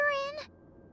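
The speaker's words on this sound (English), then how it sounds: "A smart cat." A cat in the Genshin Impact video game gives one short, clear, high meow that fades quickly into quiet.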